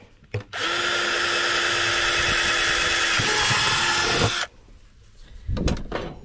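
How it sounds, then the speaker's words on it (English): A power drill whirs loudly for about four seconds while drilling a bolt hole on a gas scooter being repaired, then stops, followed by some knocking and handling noises close by. "drill hole, put more bolts in here."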